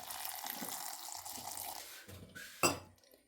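Water pours briefly into a mixer grinder jar in a short gurgling splash, followed by a light clink and a few faint drips.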